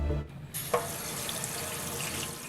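Tap water running steadily into a sink, a continuous close rushing flow that starts after a brief quieter moment, with no one speaking.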